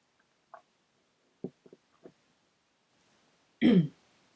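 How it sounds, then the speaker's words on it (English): A few soft, scattered throat sounds in a quiet room, followed by one louder, harsh throat clearing near the end. "I do apologise for keep clearing my throat."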